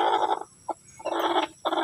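A seven-month-old brood stag chicken gives repeated low clucking calls in short bursts with brief pauses between them, close by and alone.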